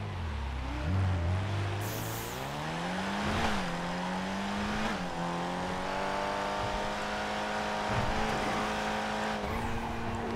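A car in GTA 5 accelerating, with the engine note climbing through gear changes and a brief tire squeal, loud and close over about ten seconds, with a few sharp knocks along the way.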